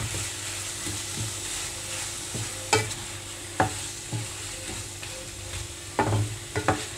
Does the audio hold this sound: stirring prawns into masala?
yes